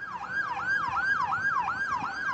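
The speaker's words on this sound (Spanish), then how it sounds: "la montamos a la Feli y lo subimos a la ambulancia." An ambulance siren wails in a rapid repeating rise-and-fall cycle, loud and continuous with road noise beneath, no voices.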